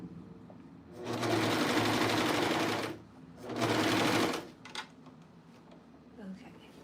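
A serger sewing elasticated fabric runs in two steady bursts of whirring stitching, each a couple of seconds long and close, separated by a short pause, followed by light handling noises.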